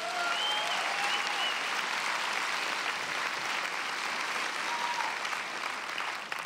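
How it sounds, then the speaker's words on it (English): A church congregation claps their hands in praise during a service: dense, steady applause filling the room at close range, continuing without a break and fading slightly at the end. "Clap your hands and give him praise."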